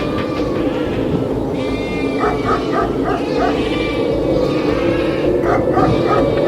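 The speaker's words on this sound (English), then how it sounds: "the barking of the guard dog named Shirak could be heard among the herd of sheep" A guard dog barks in short repeated bursts among a herd of sheep, with bleating mixed in over a dense, steady background.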